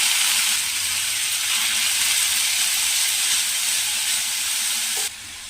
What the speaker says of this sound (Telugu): ఇప్పుడు క్యాబేజీని కూడా యాడ్ చేసుకొని చక్కగా ఫ్రై చేసుకున్నాము